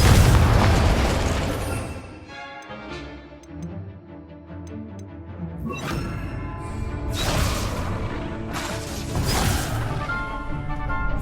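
Repeated blasting-spell explosions from Hogwarts Legacy, several loud booming bursts with crackling tails spaced a second or two apart, alone without talk.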